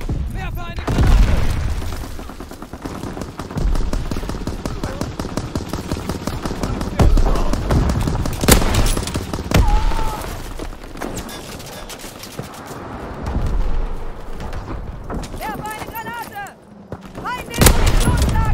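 Rapid gunfire and booming grenade explosions in the World War II shooter Call of Duty WW2, loud bursts and blasts close and far throughout, with shouting voices over the battle.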